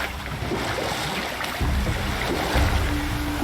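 Sea waves in the video game God of War, a steady broadband wash of surf with soft swells, heard alone at moderate level.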